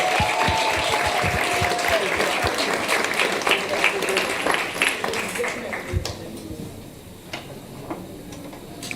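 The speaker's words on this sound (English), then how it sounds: "Let me hear the applause, please." Applause for Dean's List students at a law faculty awards ceremony, sustained clapping from an audience with sharp individual claps standing out, gradually thinning toward the end while voices murmur underneath.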